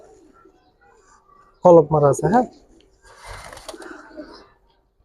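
Jabra pigeons coo in three quick, loud, close throaty pulses, followed by someone talking with softer rustling.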